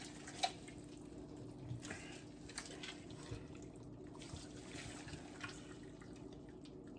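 Mozzarella curd is worked and stretched in a container of hot water, giving quiet sloshing and dripping with a few small splashes against soft background noise.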